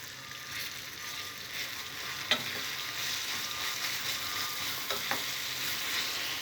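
Ground raw green tamarind chutney frying in a tempering of garlic, dried red chillies and curry leaves, a steady broadband sizzle with a few sharp spatula clicks against the pan, close and continuous, no talk.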